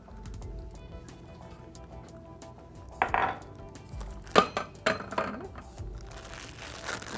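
Metal cupcake pans clatter and clink in a home kitchen while batter is being portioned, with a few sharp knocks midway and soft rustling between them.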